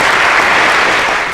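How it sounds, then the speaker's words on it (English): School assembly audience claps for eighth grade boys, a loud, dense burst of applause that tapers off slightly at the end. "So can we please give them a nice round of applause?"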